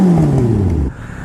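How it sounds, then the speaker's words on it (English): A motorcycle with an M4 Street Slayer exhaust, baffle still in, revs loudly close by, its engine tone sliding down as the revs drop, then cutting off abruptly near the end. "I'm going to give you a little exhaust clip."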